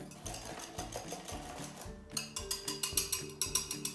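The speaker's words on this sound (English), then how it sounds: "We're going to give all of that a good whisk together." A whisk beats wet ingredients with sugar, salt and vanilla in a bowl, rapid rhythmic clicking strokes against the sides, close and steady, picking up into a brisker, louder beat midway.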